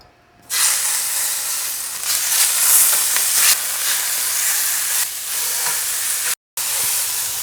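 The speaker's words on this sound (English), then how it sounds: "We're going to heat this pan up and we'll sear this pork so it's nice and brown." Pork tenderloin sears in a hot, oiled pan, giving a loud, steady sizzle and hiss that runs without a break except for one short silence near the end, with no talking.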